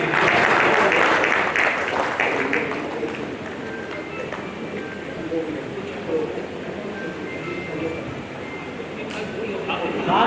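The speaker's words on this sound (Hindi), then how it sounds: "जोरदार तालियां बजनी चाहिए दोबारा से इनके लिए।" A crowd at a ceremony in Kanpur honouring descendants of revolutionaries claps vigorously, a loud, continuous roar of hands that eases slightly but keeps going for about ten seconds, with voices mixed in.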